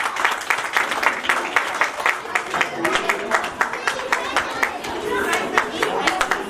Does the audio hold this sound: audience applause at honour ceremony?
yes